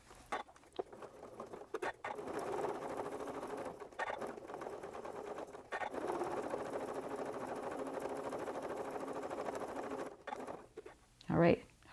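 Sewing machine doing free-motion stitching of words onto a mixed-media appliqué, a soft rapid patter of needle strokes in several bursts with short pauses between, faint and close.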